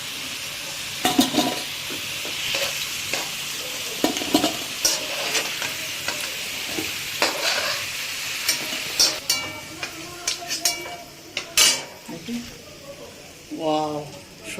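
Pieces of taro (arbi) frying in hot oil in a pan, a steady sizzle broken by repeated scraping and clinking stirs of a spatula, with a person talking over it.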